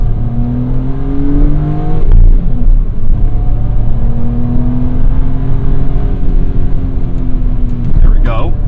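BMW M Coupe with the S52 engine accelerates hard through the gears, a loud rising engine note heard from inside the car that drops at each shift and climbs again, with a voice speaking over it.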